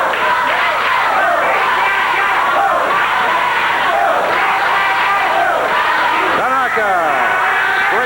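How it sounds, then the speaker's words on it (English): A loud wrestling arena crowd in Memphis chants and cheers without letup through the whole stretch, a dense roar with rising shouts under a commentator's voice. "Go, Pat, go, the crowd says."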